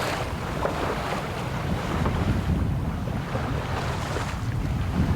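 Steady wind rushing and wash of waves around a 12 m sailboat under mainsail and genoa at sea in about 6-7 knots of breeze, a continuous broad roar with no voices.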